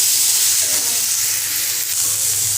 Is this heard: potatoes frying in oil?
yes